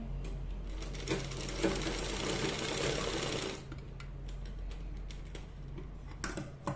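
A sewing machine stitches a designer top with a fast, close mechanical whir and rattle for a few seconds, then stops, leaving light handling clicks and taps.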